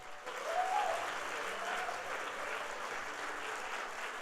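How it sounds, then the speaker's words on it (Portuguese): A church congregation at a Sunday service breaks into strong, steady applause, a dense wash of clapping that swells quickly and holds for a few seconds. "Pode dar um forte aplauso ao Senhor."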